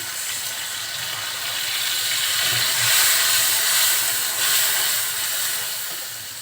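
Water poured into hot spiced oil while cooking prawns with green banana hisses and sizzles steadily, a loud broad steam-like hiss that swells in the middle and carries through with no talking.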